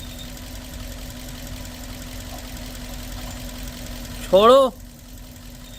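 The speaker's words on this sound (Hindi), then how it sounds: "ये आवाज इसकी नहीं है, ये आवाज है क्लच की" Clutch noise in an idling Suzuki Baleno with a starting problem, heard as a steady low mechanical hum and whine under the engine's idle. A man briefly calls out a command near the end.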